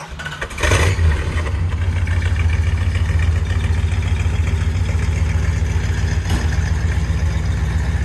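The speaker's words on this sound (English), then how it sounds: "I'll start it up for you and you can hear those exhausts" A 1967 Plymouth GTX muscle car engine turns over and settles into a loud, steady idle, its deep exhaust rumbling continuously up close.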